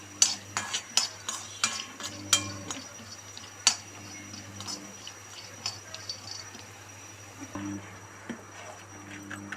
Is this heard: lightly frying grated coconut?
yes